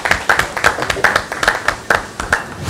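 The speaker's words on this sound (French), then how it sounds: "On peut l'applaudir?" A small group claps for the chef after tasting his dish on a cooking competition set, with a few sparse, uneven hand claps close by and brief chatter mixed in.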